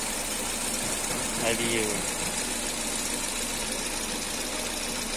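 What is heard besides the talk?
Chevy Aveo engine idling after engine change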